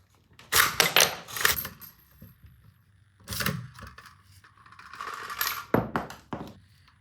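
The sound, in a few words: dummy rifle rounds being ejected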